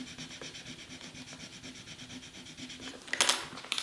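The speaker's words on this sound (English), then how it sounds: "And then you just rub it on with the popsicle stick." A popsicle stick rubs a rub-on transfer onto a paper craft page, making a steady, close, soft scraping rasp in quick repeated strokes, with a few sharper louder scrapes near the end.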